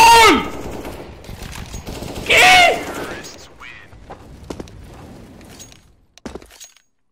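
Gunfire in a Counter-Strike match on the map Cache: a loud opening burst, a second heavy crack cluster in the middle, then scattered sharper shots trailing off, all close and punchy with brief quiet gaps between.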